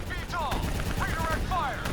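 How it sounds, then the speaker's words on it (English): Gunfire and explosions in the video game Black Ops III during co-op play, a dense barrage of rapid shots and booms with whistling streaks overhead, loud and continuous. "There's so many explosions and smoke that I can't see what's happening."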